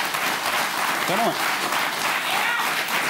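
A television studio audience applauds and cheers steadily throughout, a dense, loud wash of clapping as a rally driver guest is welcomed on a Norwegian talk show, with a brief voice calling out over it.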